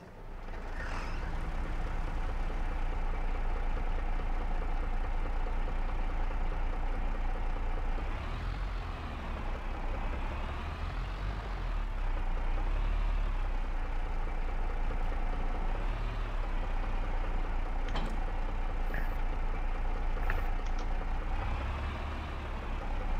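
An Erkunt tractor engine runs continuously at close range, a loud, steady low rumble with gentle swells in pitch as the revs rise and fall, with no speech.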